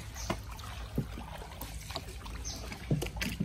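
A small wooden tour boat passes on a river at Thới Sơn islet in Tiền Giang, Vietnam. Water sloshes and lightly splashes against the hull over a low, steady rumble, heard fairly close with soft clicks and knocks.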